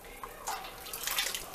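Leftover yellow whey from homemade cheese pours away with a soft, continuous splashing and trickling of liquid, close by and fairly quiet for under two seconds.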